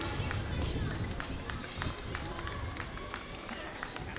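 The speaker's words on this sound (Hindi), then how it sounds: "तालियां प्लीज" A crowd of society residents at an RWA Mahagun conclave claps as guests are welcomed onto the stage. The steady, dense applause runs throughout while an announcer keeps talking over it.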